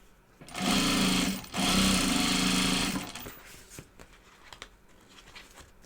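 A sewing machine runs fast and close while stitching down binding on a project bag, in two sustained bursts separated by a brief pause, then stops and leaves quiet handling noise.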